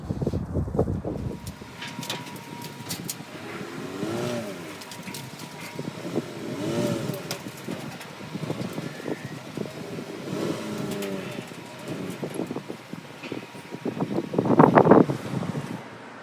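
A Jeep Compass drives slowly onto a car trailer, its engine a steady low hum with wind buffeting the microphone, a few tonal whines from the drivetrain and a louder burst near the end, close by.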